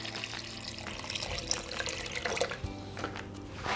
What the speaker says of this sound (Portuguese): vamos encher aqui de água até cobrir as nossas batatas